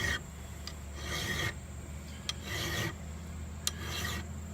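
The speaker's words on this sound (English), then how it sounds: "clamping that in a vise helps you get a more straight on kind of grade with your file" An old file is drawn in repeated rasping strokes along the spine of a Mora HD Companion knife held in a vise, with steady scraping passes, brief pauses and a couple of sharp metallic ticks, close and alone.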